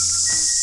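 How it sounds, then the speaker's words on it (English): Loud, steady cicada drone in a New Zealand forest, a continuous high buzzing that fills the whole moment with no pauses. "These cicadas are really loud."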